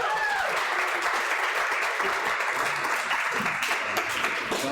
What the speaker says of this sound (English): Round of applause for the actors.